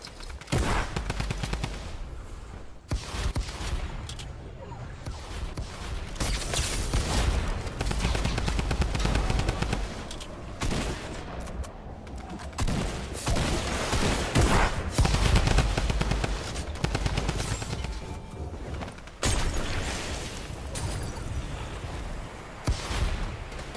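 Gunfire in a Fortnite match during a World Cup session, bursts of shots and automatic fire rattling almost continuously and loud throughout, with short gaps between volleys.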